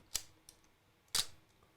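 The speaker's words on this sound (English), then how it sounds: "That's like camera ASMR." A camera shutter and mirror fire twice, about a second apart, with a faint tick between them. The camera has a fault that stops the mirror from dropping back down. The clicks are crisp, close and stand alone.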